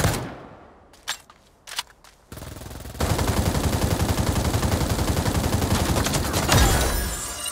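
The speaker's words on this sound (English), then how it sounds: "The recoil on this assault rifle." An assault rifle firing in a video game: a few separate shots and short bursts first, then a long, loud, rapid automatic burst with an even rhythm that runs to the end.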